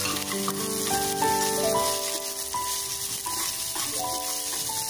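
Chopped onions and peanuts sizzle steadily in a hot pan while making momos chutney, a constant crackling fry sitting beneath louder background music.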